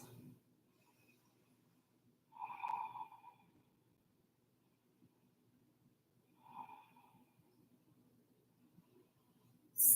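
Two slow, soft breaths with a gentle nasal tone rise and fade during a yoga practice. Long quiet gaps separate them.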